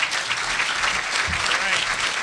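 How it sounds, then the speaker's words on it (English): Audience at a city club speech event applauding, a dense, loud burst of clapping from a room full of people that holds steady throughout. "Daniel, give him a round of applause"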